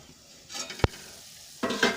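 Handvo, a Gujarati savory cake topped with sesame seeds, cooks in an oiled pan. A soft, low sizzle swells in short waves, broken once by a sharp metallic clink of a utensil or lid.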